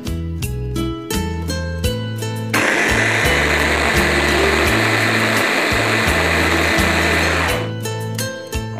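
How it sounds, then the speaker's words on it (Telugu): A blender whirs loudly and steadily for about five seconds, blending a bottle gourd smoothie with cumin powder, between stretches of rhythmic background music. "ఇప్పుడు ఇంకొకసారి బ్లెండ్ చేసేస్తాను"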